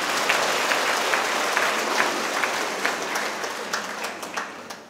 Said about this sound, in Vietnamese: Cho nhau một tràng pháo tay đi.